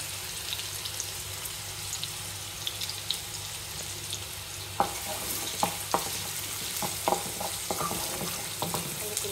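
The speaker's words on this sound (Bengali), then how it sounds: "তারপর দিয়ে দেবো সাথে একটু রসুন কুচি" Chopped garlic frying in hot oil in a pan while tuna is being cooked. A continuous close sizzle runs throughout, with clicking stirring and scraping sounds that grow busier in the second half, and no voices.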